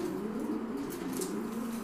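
Pigeons coo softly in a nest box, a low, repeated throaty murmur from a pair at the nest, close by and alone with no talking.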